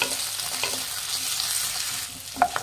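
Onions and green chillies frying in a pan while biryani is being made, a steady close sizzle with occasional stirring scrapes and a louder clatter near the end.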